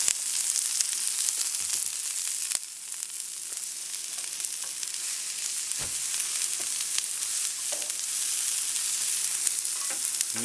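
Onions and mushrooms frying in oil alongside peppers, a steady bright sizzle and crackle with occasional scrapes and clicks of stirring, close and constant without speech.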